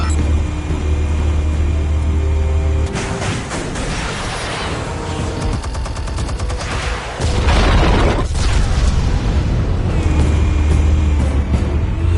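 Heavy explosions from a Batman video game roll through the middle of the clip, loud bursts and rumbling debris over a droning low background hum, with no voices.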